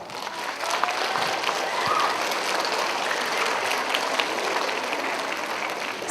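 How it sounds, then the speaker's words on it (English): Parents at a school winter concert receive a big round of applause, dense, steady clapping from a crowd that holds for the whole stretch without pause. "Kids, what do you say we give our parents a big round of applause?"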